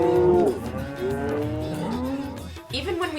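Cows low with long, wavering moos, several overlapping calls in a crowded Indian village street with about fifty cattle around, close and fairly loud over background murmur.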